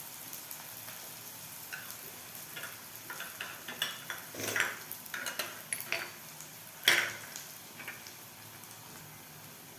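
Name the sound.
onions frying in oil until golden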